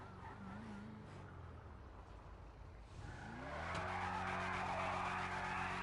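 In GTA V, a car pulls a monster wheelie, with tires skidding and squealing over a steady engine drone. Midway, a louder, harsher engine roar rises and holds close to the end, with no talking.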